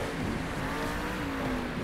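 A monster truck engine roaring off the start line in Monster Jam Steel Titans 2, a dense loud rumble with a rising tone over a short burst, close and steady.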